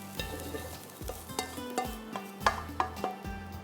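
Vegetables tipped into a hot pan of chicken, a steady sizzle with repeated sharp clanks and scrapes of a stirring utensil at an even rhythm, close and moderately loud with no talk.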